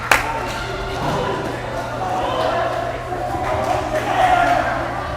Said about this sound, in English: as the crowd goes wild